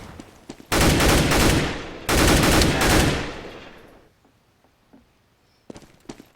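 Two long, loud, dense bursts of gunfire follow a flashbang in a CS:GO competitive match, then a quieter tail with a few sparse, distant pops.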